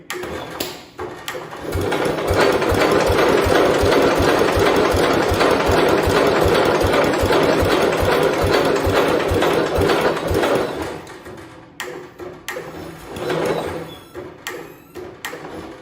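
A Homelite T12 garden tractor engine, the fifth one built, starts and runs loud and steady with a rapid chugging beat while the choke and throttle are feathered. It then sputters and cuts out into uneven bursts.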